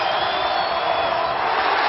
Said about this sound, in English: Listen to this Riley Center crowd.